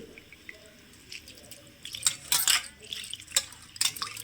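Water drips and splashes in a kitchen as basmati rice is rinsed, starting faint and growing into scattered louder splashes and trickles in the second half, with no talking.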